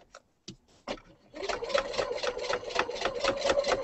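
A sewing machine stitches a fabric earring with contrasting thread. A few separate knocks come first, then it runs into a steady, fast rhythmic chatter that stays close and prominent.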